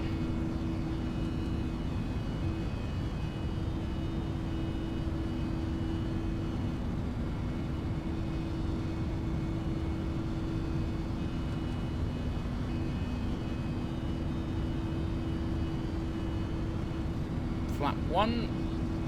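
A Pegasus Airlines airliner accelerating for takeoff in the Prepar3D flight simulator: a steady, loud engine drone with a constant low hum, unbroken throughout, and a brief faint click near the end.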